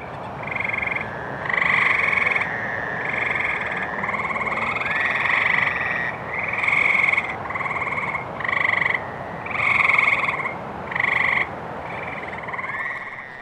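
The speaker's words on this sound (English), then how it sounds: "As it got dark, the great tree frogs and the fowler's toads started to really chorus." Great tree frogs and Fowler's toads call together in a dense night chorus, with loud, repeated nasal bursts pulsing over a steady trilling background that runs throughout.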